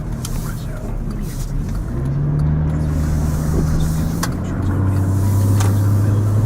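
A rock hauler truck passes along a road in Elizabethtown, Kentucky, its engine droning and rising in pitch as it goes by, fairly close and loud, with a voice speaking over it.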